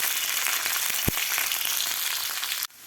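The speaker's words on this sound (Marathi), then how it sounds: "मिरच्या आणि लसूण आपल्याला व्यवस्थित असे डाग पडेपर्यंत भाजून घ्यायचे आहेत" Chilies and garlic roasting in a hot pan give a steady, loud broadband sizzle and crackle, with a sharp pop near the middle; the sizzle cuts off abruptly just before the end.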